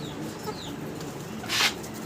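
A chicken clucks briefly at a fancy bird seller's place, a short soft burst over a steady low background hum with faint chirps.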